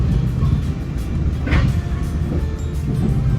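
Commuter train riding from Tarrytown to Grand Central Terminal gives a loud, steady low rumble and rolling rail noise inside the carriage, with a brief brighter squeal midway.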